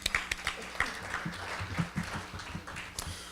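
An audience at a Pasco Chamber of Commerce event applauds, a steady patter of many hands clapping at moderate volume for a few seconds.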